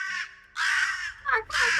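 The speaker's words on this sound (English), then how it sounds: "Some squawking of crows you hear." Recorded crows caw in harsh, raspy squawks, two long calls with a short one between, loud and close, played during a tabletop game session.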